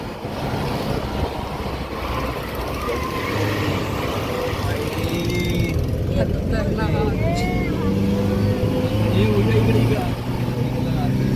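A vehicle with a 250 cc engine labours uphill toward Matheran, its engine droning continuously with wind buffeting the microphone while voices talk over it.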